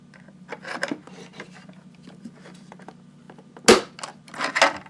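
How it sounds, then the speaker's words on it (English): A hand pop rivet tool sets a rivet with a washer: scattered rasping and clicking handling noises close by, then one sharp loud snap as the mandrel breaks, followed by a few more squeezes and clicks. "Pop another rivet"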